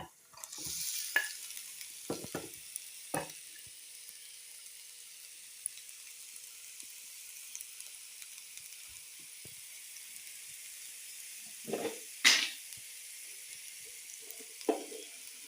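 Onions dropped into a pan of ginger, garlic and curry leaves for fish cutlets, giving a steady soft sizzle with a few sharp stirring scrapes and clinks near the start and around the twelfth second.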